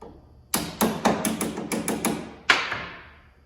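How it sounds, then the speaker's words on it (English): A Yeti Snow MX bogie wheel is lightly tapped down into place with its bolt holes lined up: a series of about nine sharp, close hammer taps in an uneven rhythm, each ringing briefly, with a final louder strike after a short pause. "Line up the bolt holes and lightly tap it down and into place."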